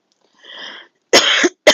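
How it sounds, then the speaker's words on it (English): Two sharp, loud coughs from an adult man, close to the mic, after a softer throat-clear, with short pauses between them. "Please excuse my cough."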